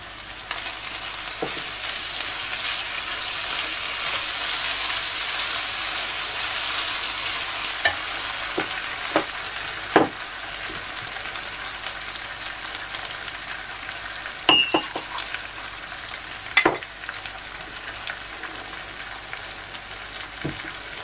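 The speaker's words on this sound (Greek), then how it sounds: "Θέλουμε να τσιγαριστεί το κρυθαράκι με τα υπόλοιπα υλικά" Orzo and other ingredients fry in a pan with a splash of wine sauce, giving a steady close sizzle broken by several sharp scrapes and knocks of a spoon stirring.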